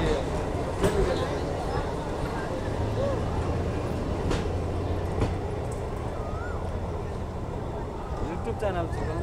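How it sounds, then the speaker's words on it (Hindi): A Nepal Railway passenger train pulls out of Janakpur station, heard from on board as a steady low rumble with faint clanks and a dull hum beneath nearby chatter and people talking. "नेपाल ट्रेन जो है अब खुल चुकी है"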